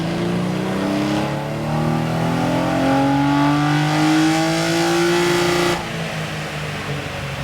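A Toyota GX81 with a naturally aspirated 2JZ engine revs hard on a dyno power run, its rising engine tone climbing steadily and loudly for about six seconds before abruptly cutting off to a lower idle-like rumble.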